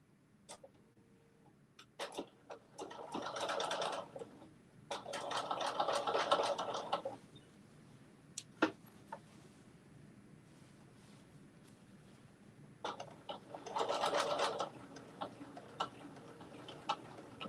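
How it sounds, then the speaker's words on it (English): A sewing machine runs in three short bursts to sew the bottom of a zipper pouch, quiet and fairly close, with faint clicks and handling noise between runs. "We're sewing this bottom on."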